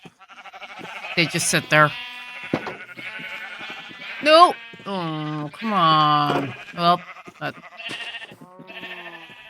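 Sheep in a farming video game bleat several times in short, wavering calls, some overlapping, while a player talks over them.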